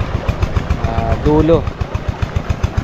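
Irrigation water pump engine left running to fill a field, its steady rhythmic chugging thumps carrying throughout beneath a person talking nearby.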